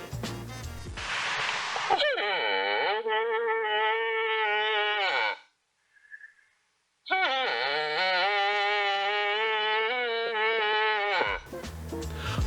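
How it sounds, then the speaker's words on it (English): A cow moose in the rut gives two long, drawn-out nasal bawling calls, loud and close, separated by a brief pause with a faint sound in between. "Cow moose will use nasal-toned bawling sounds to try to bring a male closer."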